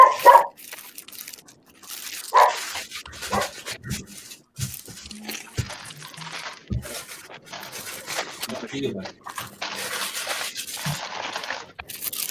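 A dog gives a few sharp barks near the start, then whimpers and yips now and then under ongoing talk and wrapper rustling as McDonald's cheeseburgers are unwrapped.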